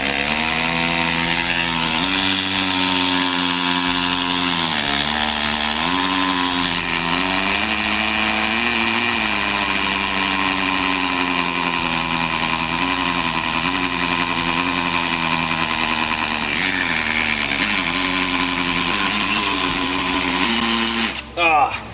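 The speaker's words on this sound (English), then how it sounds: "we'll just drill this first hole with the hammer drill function on this cordless drill" A cordless drill in hammer drill mode bores into concrete with a loud, continuous whining buzz that pitches up and down as the bit works, running steadily for about twenty seconds before stopping.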